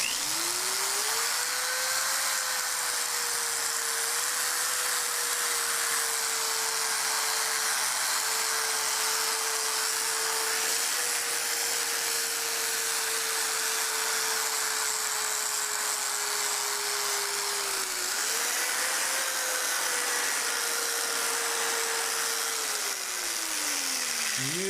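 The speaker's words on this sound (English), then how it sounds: "what we're going to do is sand that headlight and sand all that cloudiness off of there." A power sander fitted with a gold sanding disc works over a cloudy headlight on a Smart ForTwo, giving a steady whine that holds for nearly the whole stretch, dipping briefly near the end. No talking is heard.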